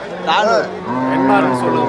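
Cattle at a cattle market moo loudly and close by, two drawn-out bellowing calls one after another, with faint crowd murmur underneath.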